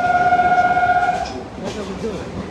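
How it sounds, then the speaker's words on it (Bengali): A passenger train rolls along, heard from inside the carriage as a loud, rhythmic rumble with a sustained tonal hum or horn early on, while people talk nearby. "ট্রেনে উঠে গেছি আমরা।"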